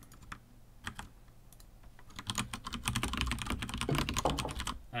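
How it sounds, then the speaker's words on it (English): Computer keyboard being typed on, starting with a few sparse, separate keystrokes and then building into a dense, fast run of close, crisp clicks. "And you're all hear me typing as well"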